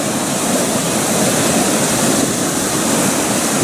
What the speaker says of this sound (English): All the river goes right through this rapids.